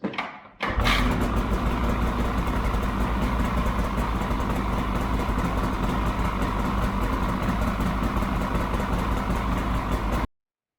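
A Polaris Axys RMK snowmobile engine cranks briefly, catches and starts, then settles into a steady, loud, close idle that runs without a break.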